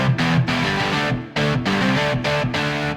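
Several layered distorted electric guitars from the UJAM Legend plugin play together as one thick, loud wall of chords, with rhythmic bursts and short stops, and no voices.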